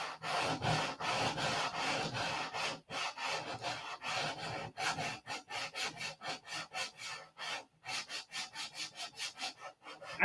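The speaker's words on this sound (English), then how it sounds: "I go sand." A model P-47 fuselage is sanded by hand in steady back-and-forth strokes, a close, rhythmic rasping that speeds up into quicker, shorter strokes and runs for about ten seconds without talk.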